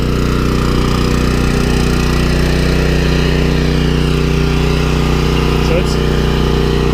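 Champion dual fuel 7000-watt generator running on propane at about half load: a loud, steady, unbroken engine drone with a constant hum that stays smooth throughout.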